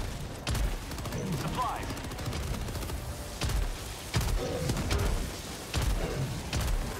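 Video game gunfire cracks out in repeated sharp shots and short volleys spaced a second or two apart, loud and close over a continuous rumbling background.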